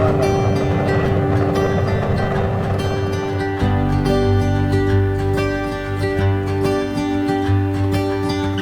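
Spacecraft engines in the Homeworld space strategy game give a loud, steady, dense rumbling drone with sustained humming tones, shifting to a fuller roar partway through and holding continuously to the end.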